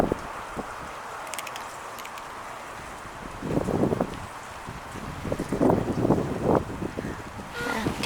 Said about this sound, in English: We also have wind.